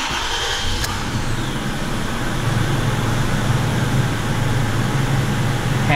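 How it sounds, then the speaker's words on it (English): Toyota Tacoma pickup engine running at idle after an oil change, a steady low rumble with a faint click near the start, continuous and fairly close. "So now we can start the truck up."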